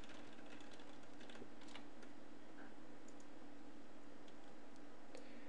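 Keys clatter on a computer keyboard in quick, irregular bursts of typing, quiet and close, with no talking over them.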